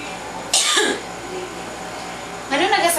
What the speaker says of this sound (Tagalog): kaning ubo niya